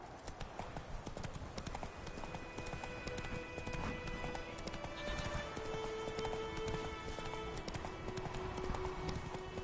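Witcher 3's horse Roach gallops steadily in a quick, even clip-clop of hooves on a road, close and constant throughout, with a whinny-like tonal cry breaking through near the middle and a faint rain-like hiss beneath.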